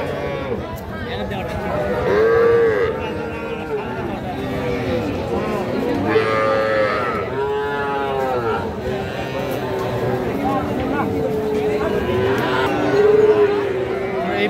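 Young bull calves low and bawl at a busy village cattle market in Raniganj, with several drawn-out calls rising now and then above constant crowd chatter and nearby talking.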